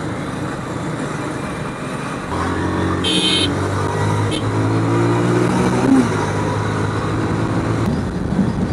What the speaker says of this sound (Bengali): এইভাবে ভাই লরিকে ওভারটেক করতে হয়।